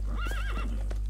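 A horse whinnies once in the video game Red Dead Redemption 2, a rising then wavering neigh lasting about a second, clear and close, with a faint steady hum underneath.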